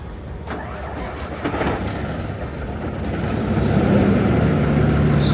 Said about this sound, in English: we're gonna turn on the truck right now and we'll see if it just turns on